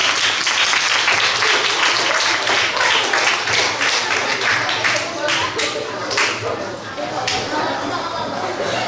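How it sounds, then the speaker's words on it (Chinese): Audience applause welcoming a candidate team onto the stage at a school mayoral campaign speech event, sustained loud clapping from a crowd with some chatter mixed in. "请大家一掌声欢迎他们。"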